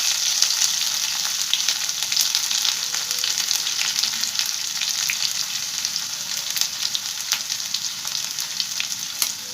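Garlic fries in hot oil for an Odia pakhala side dish, giving a steady, close sizzle and crackle with faint stirring and no talk.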